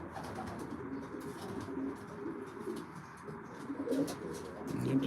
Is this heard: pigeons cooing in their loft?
yes